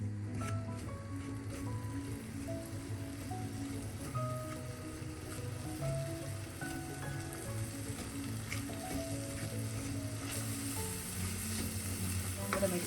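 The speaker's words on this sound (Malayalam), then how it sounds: "പൊടികളെല്ലാം കൂടി ഓയിലിൽ നിന്ന് മൂപ്പിച്ചെടുക്കാം." Spice powders, including coriander powder, roast in oil in a pan for a Kerala-style kingfish curry, giving a steady close sizzle with occasional stirring scrapes throughout, no voices.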